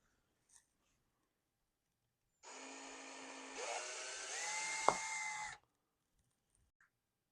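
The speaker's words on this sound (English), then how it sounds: "Can you drill this for me?" A power drill bores a pilot hole into a juggling ball, a loud whirring burst lasting about three seconds with rising pitch as the bit bites, alone in a quiet room.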